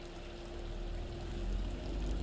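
A fishing boat's engine runs steadily in the Scottish Highlands setting of Fishing: North Atlantic, a low constant drone with a faint hum and a gentle watery wash, unbroken throughout.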